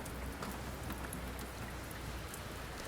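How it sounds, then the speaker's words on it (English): Heavy rain in a video game pours in a dense, steady hiss with scattered drops pattering throughout, loud and close, with no voices. "It was raining buckets outside."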